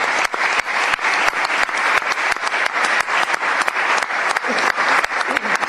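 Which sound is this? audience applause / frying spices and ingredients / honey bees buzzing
audience applause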